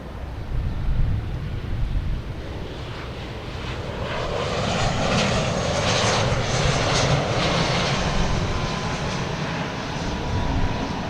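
An American Airlines airliner takes off from Boston Logan Airport, its jet engines building to a loud, steady roar close by that holds throughout with some wind buffeting on the microphone.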